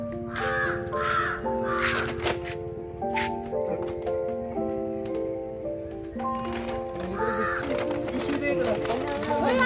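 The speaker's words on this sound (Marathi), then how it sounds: "तो कावळा कुठे आहे" A crow caws several times in a garden outside a house, loud, harsh calls in short bursts over steady background music.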